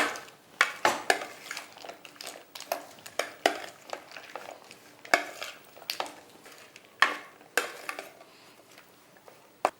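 A paneer papad salad with pepper and chilli spices is tossed and mixed in a bowl, producing irregular close clinks and scrapes of a spoon against the dish over a quiet background, with no voices.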